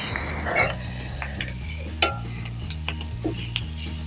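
Agathi spinach leaves stirred into hot ghee in a pan, a steady low scraping and shuffling with soft sizzle, one sharp clack of the spoon against the pan midway, no talking.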